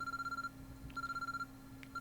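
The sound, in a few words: urgent ringtone ringing in a room, from the visual novel game Chaos Head Noah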